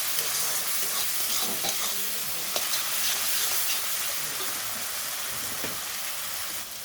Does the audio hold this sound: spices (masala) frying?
yes